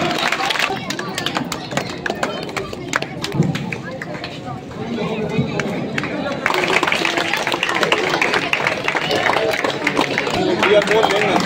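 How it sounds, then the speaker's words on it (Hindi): Villagers at an outdoor political rally in a Haryana village clapping, irregular claps and crowd chatter mixed with loud talking, the applause swelling denser and louder in the second half. "आशीर्वाद देते हुए तालियां"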